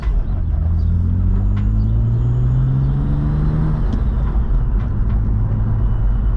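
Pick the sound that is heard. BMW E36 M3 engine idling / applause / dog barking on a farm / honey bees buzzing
BMW E36 M3 engine idling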